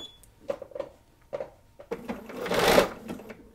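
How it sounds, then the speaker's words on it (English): Home sewing machine locking a stitch on a quilt block, a few short clattering bursts of needle stitching followed by a longer, louder whirring run, close and clear with no talking. "I'm going to lock that stitch."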